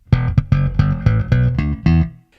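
Electric bass slap-only line run through a compressor pedal, roughly eight evenly leveled thumped and popped notes in a tight rhythm, close and prominent with nothing else over it.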